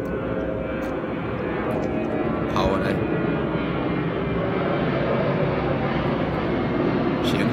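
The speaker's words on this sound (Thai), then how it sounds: "เครื่องบินเสียงเครื่องบิน" Airplane passing overhead near a busy airport, a steady, broad engine roar that fills the whole clip at moderate level, with someone speaking briefly over it.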